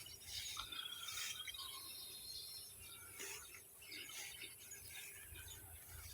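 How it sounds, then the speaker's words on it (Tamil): Sparrows chirp while feeding in an open field near coconut trees, a steady scatter of thin high calls and tweets from several birds at a moderate distance over a low outdoor background hum. "எவ்வளோ குருவி சாப்பிட்டுட்டு அவ்வளோ சந்தோஷமாக எல்லாம் கத்திட்டு கிடக்கு பாருங்கள்."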